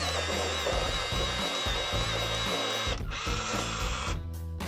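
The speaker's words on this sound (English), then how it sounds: "I've switched over to an electric sharpener." An electric pencil sharpener whirs loudly and continuously, with a brief dip partway through before grinding on again.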